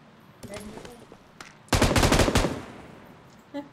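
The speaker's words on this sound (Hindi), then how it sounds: "अरे काही को फायर कर रहा है?" A burst of automatic gunfire in the mobile shooter BGMI rattles loudly for under a second after quieter, distant shots, then fades into background game noise with one more soft pop at the end.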